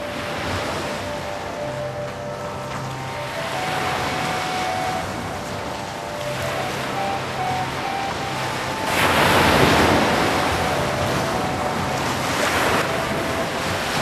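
Ocean waves surge and crash at Kanyakumari, the southern tip of India, a steady wash of surf with wind noise and a louder breaking swell midway, with no voices.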